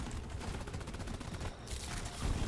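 The Drak plasma carbine fires in Deep Rock Galactic, a rapid stream of rhythmic energy shots pulsing loudly and evenly with a brief break near the end.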